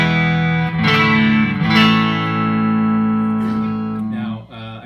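A plain Fender Stratocaster electric guitar played through an amp's clean channel, sustained strummed chords ringing out loud and close with a couple of chord changes, no voices.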